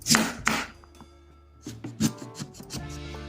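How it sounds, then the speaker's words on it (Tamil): A knife cuts peeled raw mango into small pieces on a board, making a series of crisp chops in uneven bursts with short pauses, over a faint steady hum and no talking. "நம்ம இப்போ இதை சின்ன சின்ன பீசஸாக முதல்ல கட் பண்ணிக்கலாம்"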